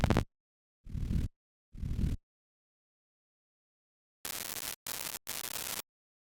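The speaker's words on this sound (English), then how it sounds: "the noise is the same Geiger noise that's in Serum" Geiger-style crackling noise from the Serum synth, heard as several short bursts of dense static, two lower and softer, then three brighter, harsher bursts close together, separated by silence.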